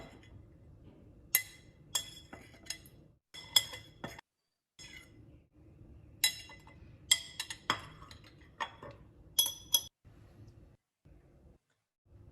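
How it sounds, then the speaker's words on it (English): Seeds dropped and scooped into a glass jar during seed saving, giving scattered bright clinks and small rattling bursts over a low steady background hum, close by with no talking. "just putting the seeds in a jar or glass"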